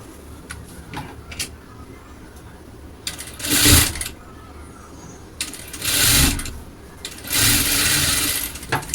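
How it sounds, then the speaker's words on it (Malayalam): A sewing machine stitches along a fabric edge in three loud, close whirring bursts of a few seconds each, separated by quieter pauses with light handling clicks. "അതിന് ശേഷം ഇതിൻ്റെ അരികിലൂടെ ഒന്ന് സ്റ്റിച്ച് ചെയ്തെടുക്കാം."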